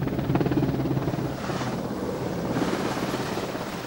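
A helicopter's rotor thumps and whines nearby, a steady throbbing drone that swells slightly as it continues, with no voices.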